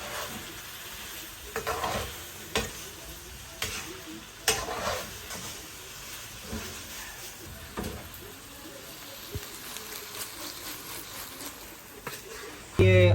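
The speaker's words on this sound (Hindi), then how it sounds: "मैं फ्राई कर रहा हूँ" Chicken frying in a pan with carrots and vegetables for samosa filling, a constant sizzle broken by frequent stirring scrapes and utensil knocks, close and fairly loud.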